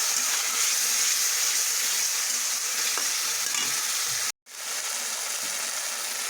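Ginger, chilli and garlic sauté in a pan for Bengali pangas fish bhuna, a dense bright sizzle with occasional stirring scrapes that cuts out for a moment, then resumes just as loud.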